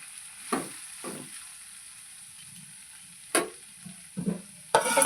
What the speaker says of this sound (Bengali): এটাকে এবার আমি প্রায় 2 থেকে 5 মিনিট ভালো করে ভাজতে থাকবো।